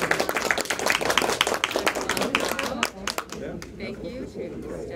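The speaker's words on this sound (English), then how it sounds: "Let's give a big round of applause to all of you" Audience applause at a TICA cat show judging ring, a sustained crowd of clapping hands that thins out toward the end, with speech mixed in.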